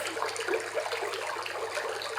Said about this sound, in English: the next sound is brook, of a stream or a brook